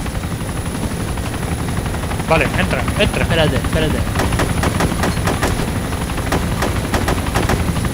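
A helicopter flies close overhead in the video game DayZ, a steady rotor drone running the whole time, with bursts of gunfire cutting in and someone talking over it.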